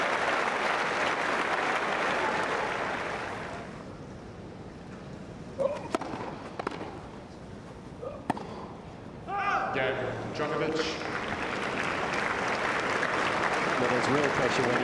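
Centre Court crowd at Wimbledon applauding for 2015 tennis match, Djokovic vs Tomic: broad sustained clapping fills the opening seconds, fades under a brief quieter stretch with scattered sounds, then swells back to full applause.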